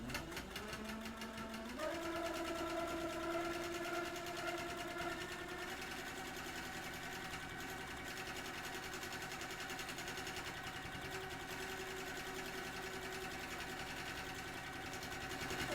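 A sewing machine stitches a quilt with a loud, steady mechanical whir and a rapid needle clatter that rises slightly in pitch early on, then runs evenly throughout.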